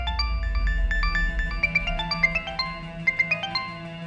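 An electronic ringtone plays a bright repeating melody, clear and close, over a low hum, with no talking.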